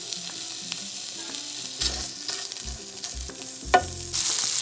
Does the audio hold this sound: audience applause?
no